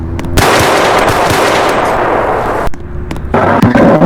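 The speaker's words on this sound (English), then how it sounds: "They're still shooting." Rapid bursts of automatic gunfire in a Roblox hood roleplay game, loud and close, with a brief lull before a second volley and no talk.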